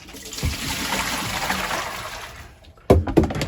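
Rinse water from washing a synthetic wig tipped out of a bucket, a close, loud pouring splash and trickle that fades, then a few sharp splashes near the end.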